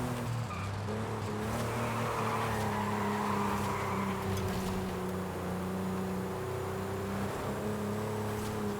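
Engine drone of a Ford Mustang Mach-E in a racing video game, set in Mexico, as a steady, fairly loud hum that holds at an even pitch with slight rises.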